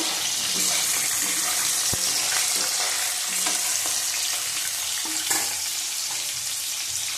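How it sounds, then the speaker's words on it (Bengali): Potatoes frying in a pan for a katla fish curry, giving a steady, close sizzle with a few stirring clicks and scrapes throughout. "আলুটাকে ভালো করে ভেজে নেব।"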